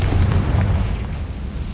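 A Confringo fire spell from the Hogwarts Legacy video game bursts into a loud, deep booming blast that rumbles steadily for under two seconds.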